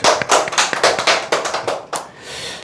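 Several people clap together in a quick, uneven burst of fairly loud, close claps that taper off into a soft hush near the end.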